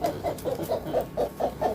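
A brooding hen at a home poultry farm clucks in a steady series of about eight short, evenly spaced calls, close and moderately loud over a low background hum.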